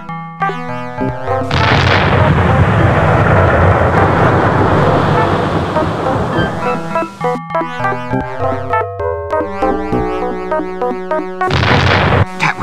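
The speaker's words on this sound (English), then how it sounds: "That was an explosion. Good grief!" A loud explosion bursts in the Discworld point-and-click adventure game, a dense roaring rumble that swells and then fades into a jaunty electronic game tune.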